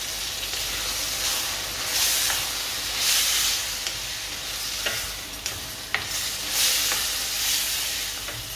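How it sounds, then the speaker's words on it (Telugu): Chopped tomatoes sizzle in hot oil in a pan on the stove, a steady close hiss with periodic swells and a few sharp clicks as they are stirred, no voices. "ఆయిల్లో బాగా మగ్గనివ్వాలి."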